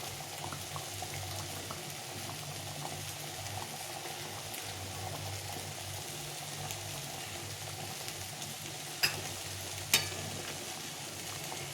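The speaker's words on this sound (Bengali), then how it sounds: "এখন আমি মাছগুলো দিয়ে দেবো মাছের মুড়োগুলো একটা একটা করে দিয়ে দিই" Fish heads dropped one by one into a pot of bubbling curry with ash gourd, giving a steady simmering, sizzling bed of sound with two sharp clinks near the end.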